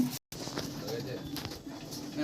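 A collection of Andhra pigeons coos in a low, steady murmur, with people talking nearby through much of it.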